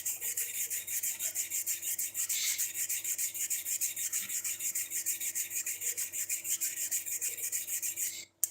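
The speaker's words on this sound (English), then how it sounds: "I'm sitting here sharpening a homemade chisel" A homemade chisel is sharpened by hand, giving a long run of even, rapid rasping back-and-forth strokes at close range, ending with a brief knock.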